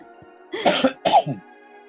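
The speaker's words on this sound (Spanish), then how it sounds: "hoy estoy tosiendo igual que mi papá" Two short, harsh coughs close to the microphone, a brief pause between them, with no talking around them.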